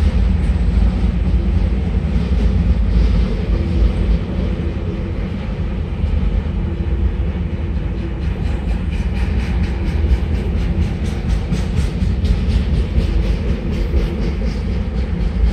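A CSX train, the Springdale Switcher at Parkway in Hartwell, rolls past with a loud, continuous rumble and faint rhythmic clatter of wheels throughout.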